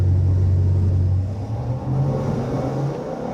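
A 383 stroker small-block V8 in a 1991 Chevrolet Suburban starts and rumbles loudly up close, its low drone rising and falling as it revs, with a steady whir underneath.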